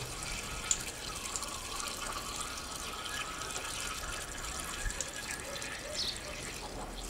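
Steady rushing of water being poured from a bucket into a tractor radiator, a continuous splashing wash with a faint clank near the start, close by.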